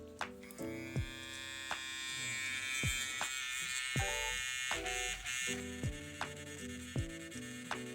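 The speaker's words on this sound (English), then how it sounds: "Now we have the electric eraser." An electric eraser working on a charcoal drawing made on wood, a faint high whirring buzz that starts and stops in short bursts with small clicks between.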